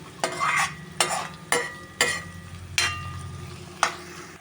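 Curry leaves frying and being stirred in a pan for a dry fish curry: a steady sizzle broken by five or six sharp scraping stir strokes at uneven intervals, close and fairly quiet, with no talking.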